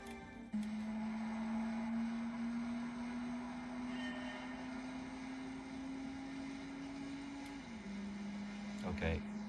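Engine note from a car in Gran Turismo 3 on the PS2, a steady droning tone held through most of the run that rises slowly, then drops in pitch as a gear shift comes near the end, with faint background noise.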